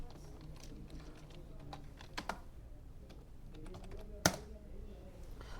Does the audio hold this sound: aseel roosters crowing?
no